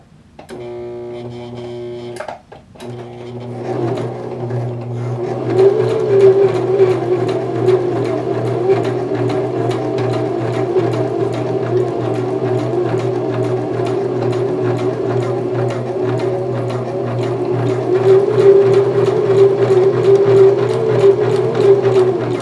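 A sewing machine stitches a bar tack on a pair of pants, starting with a few short bursts and pauses, then settling into a steady, rapid mechanical whirring hum that runs continuously at close range.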